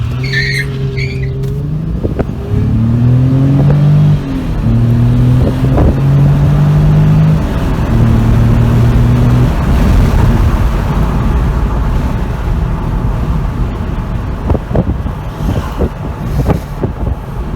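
A Mercedes W203 C230 V6 Sport AMG with a 7G-Tronic automatic, American version, revving and pulling hard through stepped gear changes, its engine tone climbing and dropping repeatedly, loud and close, with road and wind roar building behind it.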